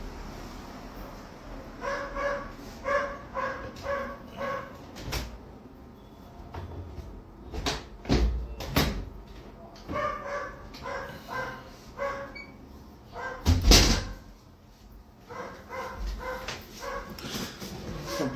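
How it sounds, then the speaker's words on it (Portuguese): A neighbour's small dogs bark in repeated short volleys from outside, a few yips and whimpers mixed in, with sharper louder bursts in the middle and no talk over them. "os cachorrinhos do vizinho estão latindo"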